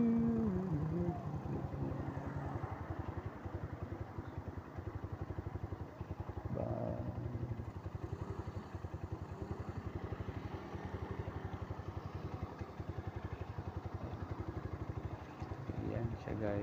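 A Motorstar Cafe 150 motorcycle engine idles steadily nearby with an even, rapid putter throughout, while a person talks over it.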